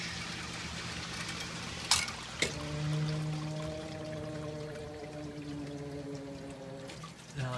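A basement sump pump switches on to pump out water, with a couple of sharp clicks and then a low, steady motor hum with water noise, faint and heard alone.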